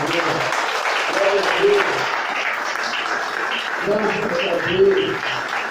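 Church congregation clapping at moderate volume through the moment, mixed with people calling out praise over the applause.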